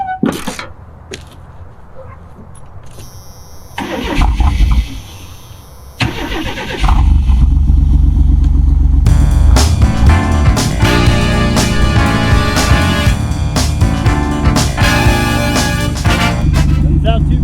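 A 1992 Chevrolet conversion van that sat for nearly a decade cranks, catches and settles into a loud, steady running rumble up close, with a voice briefly heard early on.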